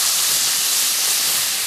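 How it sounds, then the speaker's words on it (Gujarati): Water poured into a hot spice tempering for Gujarati muthia sends up a loud, continuous sizzling hiss of steam, close and unbroken, with no talking. "તકરીબન 2 કપ જેટલું પાણી નાખશું આપણે અંદર"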